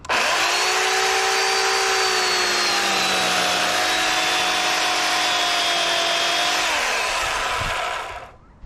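Power saw blade cutting a pulled tree into chunks: a loud, steady high whine holds for about seven seconds, dips slightly in pitch under load, then cuts off.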